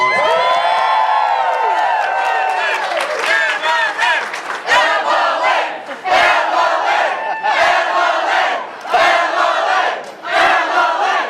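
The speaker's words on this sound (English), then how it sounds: "Let's give her a round of applause." A town hall crowd in Las Vegas erupts in loud cheering, whooping and shouting with clapping underneath, the roar surging in waves and staying strong throughout.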